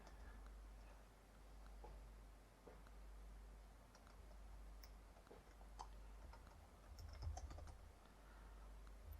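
Quiet typing on a computer keyboard at a desk, light scattered key clicks in uneven bursts, faint and close, over a low steady hum, growing a little busier toward the end.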